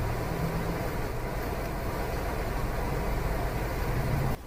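Kolkata city traffic in the evening as heard from inside a Tata Nano stuck in a jam: a steady, loud broadband rumble of engines and road noise filling the cabin, with faint low hums and no talk.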